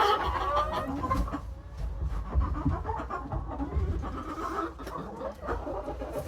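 Small chickens on a family farm with mobile coops clucking and murmuring continuously nearby, with scattered bumps and rustling of handling in the background.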